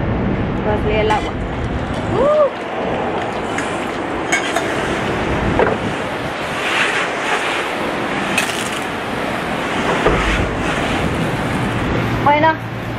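Water spraying from a high-pressure wand at a coin-operated car wash, a steady broadband hiss running throughout with brief bursts and a voice speaking over it.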